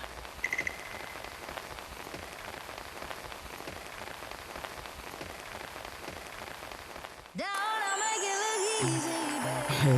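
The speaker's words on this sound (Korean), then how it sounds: "가을비가 주룩주룩 내리는 오후입니다." Autumn rain pours steadily on an afternoon in Gangwon-do, a dense continuous patter that fills most of the stretch before giving way abruptly to other sounds near the end.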